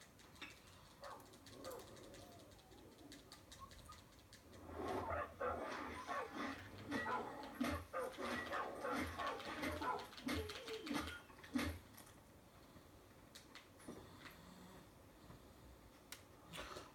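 Dog companion in the video game Far Cry 5 makes soft whimpering and yelping sounds, with bird coos mixed into the outdoor game ambience and a busier burst of activity in the middle.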